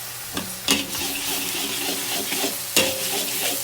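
Fried noodles with soy sauce being stirred in a hot pan, with a steady sizzle and two sharp scraping strokes of the utensil against the pan, close up and with no talk.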